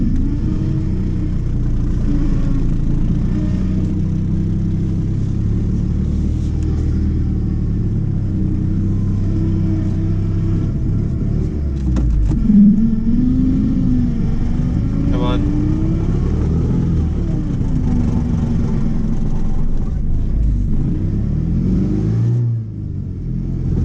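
A Chrysler TC 16v engine revs and strains as the car tries to move, rising and falling in pitch under a steady mid-range drone, with someone talking over it.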